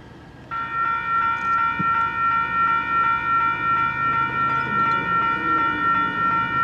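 A freight train hauling a KCS locomotive near Shelton sounds a loud, sustained multi-tone horn chord that begins abruptly and holds steady for several seconds, with a slight pulsing, over low rumbling rail noise.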